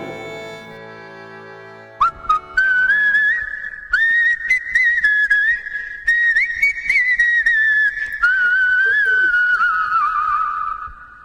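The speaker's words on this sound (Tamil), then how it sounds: "விசில் சத்தம், விசில் சத்தம்." Someone whistles a long, wavering, piercing note that rises and falls for about nine seconds, following a sustained musical chord at the start, in a Tamil short film about alcohol.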